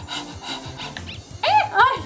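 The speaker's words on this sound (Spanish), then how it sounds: "Apenas levantaste la mano y el perro se excitó todo." A pomeranian dog in the video game Undertale getting excited when petted, with soft panting and whimpering yips, rising to a couple of brighter excited squeals near the end.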